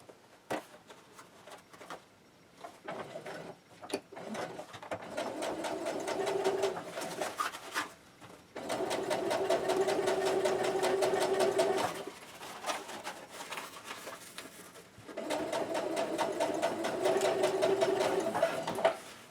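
A sewing machine stitches fabric for a cosplay gauntlet in several close, loud bursts of rapid, even mechanical clatter, separated by short quiet pauses and soft handling sounds.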